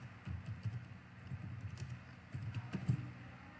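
Typing on a computer keyboard: a quick run of soft, close key clicks in uneven clusters over a faint background hiss.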